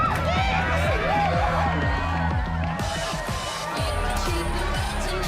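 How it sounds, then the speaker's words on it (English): A concert crowd cheers and shouts near a mosh pit in front of the stage in the video game Life is Strange, with a dense, continuous roar of voices and whoops over a thumping low rhythm. "a mosh pit opens in the smoky dark in front of the stage"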